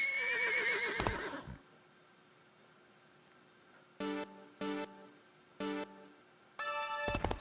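A horse in the Disney Infinity video game lets out a whinny, followed by a series of short, bright electronic chime-like tones spaced over several seconds, all fairly quiet, with no speech.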